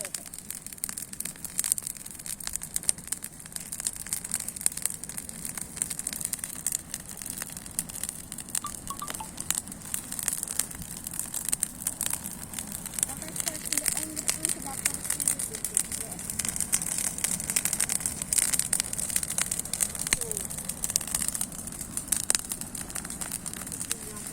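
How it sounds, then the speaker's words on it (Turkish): Branches burn in an outdoor garden fire, giving steady close crackling and popping throughout, with occasional talk over it. "Sanki ateş harlamaya başladı."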